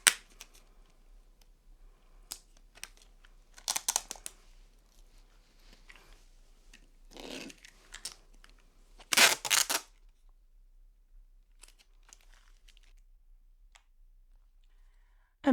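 Tape is pulled and torn from the roll in several short, sharp bursts while a resin mold is being taped up. Quiet clicks and handling noises fill the gaps in an otherwise silent room.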